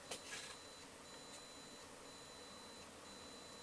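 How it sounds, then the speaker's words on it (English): Faint, thin electronic beeps repeat at an even pace in a quiet workshop during restoration of a Harman Kardon HK560 receiver, each tone short and soft over low background hiss. "Something's beeping."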